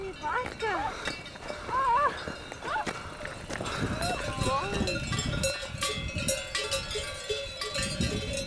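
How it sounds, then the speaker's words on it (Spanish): A group of loose cows wanders in the Swiss mountains, their cowbells clanking irregularly close by, while people talk and exclaim over the ringing. "un grupo de vacas sueltas"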